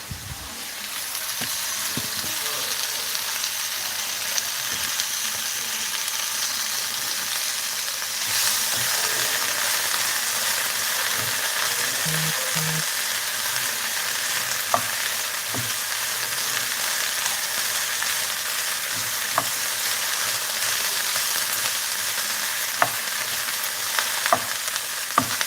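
Cabbage sizzles and fries steadily in a pan, a dense crackling hiss that carries on throughout, with occasional louder pops and stirring clinks, and nobody speaks.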